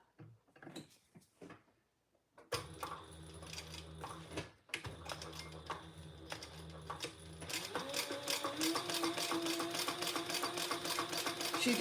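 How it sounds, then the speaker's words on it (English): Sewing machine stitching around a fabric overlay, starting in short quiet bursts, then running in longer stretches of close, rapid mechanical chatter that grows steadier and louder toward the end. "now we're just gonna sew around our overlay on the"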